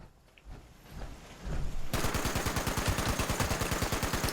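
Rapid automatic gunfire in the video game Fallout 76 bursts in after a quiet start, a fast, even stream of loud shots that continues to the end.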